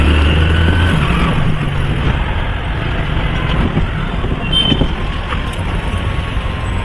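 A delivery rider's scooter pulls away from a store into city traffic, giving a loud, continuous engine drone mixed with road noise and no talking.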